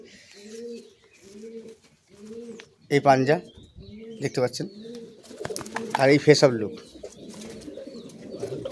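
Giribaz pigeons at a home loft coo in a repeated low rhythmic series, several close calls spaced steadily, with a voice talking over and between them.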